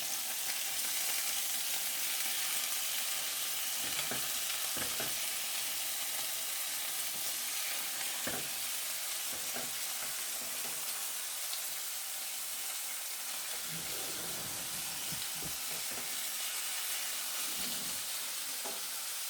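Rosemary chicken seasoned with salt and black pepper sizzles in a pan, a dense steady frying hiss with occasional soft stirring knocks, close and even, with no speech.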